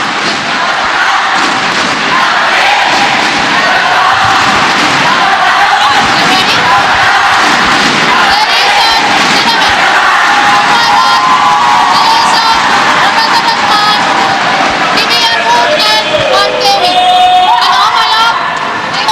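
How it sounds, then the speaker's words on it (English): A vociferous crowd roars, cheers and whoops continuously at a women's team badminton semi-final between Malaysia and Indonesia at the SEA Games, with loud thumps in the mix and a voice talking over the din. "Difficult for the umpire to make herself heard over the very vociferous crowd at the moment"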